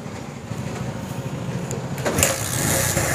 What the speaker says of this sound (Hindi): तो हम इस बाइक को करेंगे स्टार्ट।